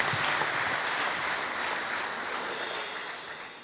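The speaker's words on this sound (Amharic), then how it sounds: "ዋው አጨብጭቡለት እስቲ" An audience at a church or stage gathering claps together in a dense, steady wash of applause that swells slightly toward the end, with no voices over it.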